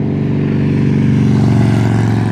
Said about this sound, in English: Got a noisy motorcycle coming.